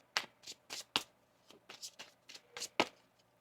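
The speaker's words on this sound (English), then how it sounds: "One more shuffle here." Tarot cards are shuffled close by in a series of short crisp riffles and taps, about a dozen quick bursts with brief pauses between.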